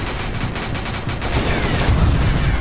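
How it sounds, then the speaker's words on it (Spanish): Gunfire in a shooting video game: loud, continuous rapid shots and bursts form a dense, steady barrage throughout with no talk. "es un juego de disparos"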